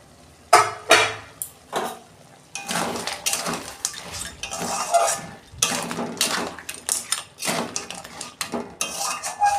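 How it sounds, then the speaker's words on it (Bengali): A metal lid comes off a cooking pot of sea crab curry, with a series of clanks, scrapes and clinks of utensils against the pot, close and irregular. "ঢাকনা খুলছি"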